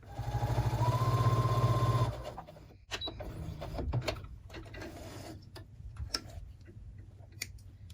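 A sewing machine stitching a quilt block seam runs in a loud, steady whirring burst for about two seconds, then stops, followed by faint clicks and handling sounds nearby, with no talking.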